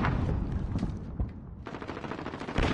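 Rapid automatic AK-47 fire in a video game, dense bursts of gunfire with a brief lull before the shooting resumes loud and close.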